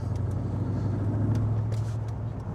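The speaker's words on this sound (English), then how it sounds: "We're in 4th gear, and even if we floor it" A car fitted with a Chopper Reid camshaft and CNC heads accelerates at full throttle in 4th gear, giving a loud, steady, low engine drone heard from inside the cabin; no talk.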